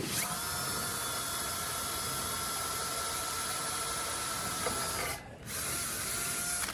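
A power drill bores bolt holes through a vehicle bumper to mount a vise, giving a steady, loud, high whine that runs almost without a break. The sound dips briefly once near the end, then resumes.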